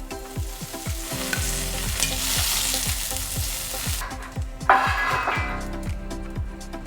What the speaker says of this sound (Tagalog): Mabilisang prito lang.